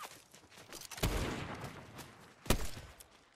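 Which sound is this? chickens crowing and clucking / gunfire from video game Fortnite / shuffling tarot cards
gunfire from video game Fortnite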